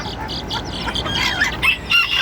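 A bantam hen squawks and clucks loudly and close by, with several sharp agitated calls in quick succession.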